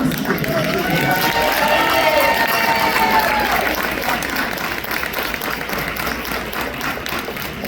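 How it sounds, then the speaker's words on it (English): Audience applause fills a room at an award dinner, a loud steady wash of clapping with some cheering that holds for several seconds and slowly eases. "Please round of applause for Tomas."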